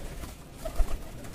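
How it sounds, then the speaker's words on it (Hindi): A teddy pigeon coos softly in a low, brief call, fairly close but faint against a steady rumbling background with no talking. "ये वाला टैडी कबूतर है,"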